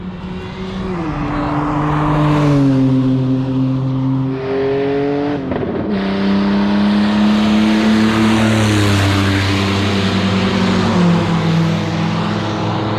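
Loud GT race car engines roar past one after another on a race circuit, revving and shifting pitch as they accelerate and fade, with a constant high-speed whine throughout.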